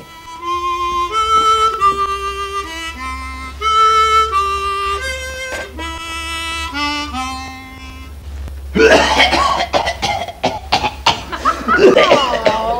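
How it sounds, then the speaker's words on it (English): A stretch of singing is followed by a burst of harsh, repeated coughing that rasps loudly near the listener. "you're not coughing again"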